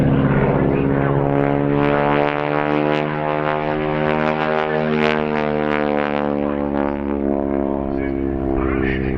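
Propeller-driven advanced trainer aircraft flying at an airshow, its engine giving a loud, steady harmonic drone that holds close and continuous for the whole stretch.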